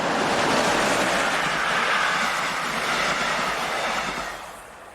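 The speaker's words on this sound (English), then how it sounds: "Still to be found in the area today are Class 143 electrics. This is 143963 heading south towards Stuttgart." Class 143 electric locomotive hauling a train southbound toward Stuttgart, a steady loud rushing rumble of wheels and passing cars close by, fading slightly at the end.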